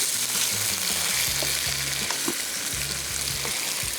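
Chicken pieces frying with garam masala in a pot for pulao, giving a loud, close, continuous sizzle with stirring clatter and a low steady hum underneath, no talk.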